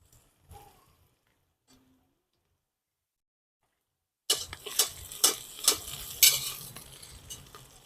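Curry leaves drop into hot oil for Hyderabadi mutton biryani after a near-silent pause, sparking a sudden loud, crackling sizzle with sharp spitting pops that continues steadily to the end.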